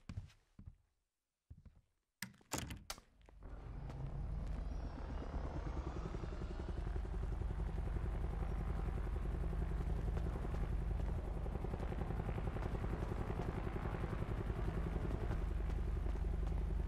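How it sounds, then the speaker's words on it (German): Helicopter in the video game GTA during roleplay, a steady loud rotor thrum that starts after a few brief knocks and silence, then continues unbroken to the end. "Was ist denn das für ein Heli?"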